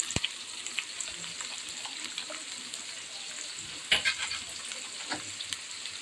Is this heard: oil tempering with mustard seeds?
yes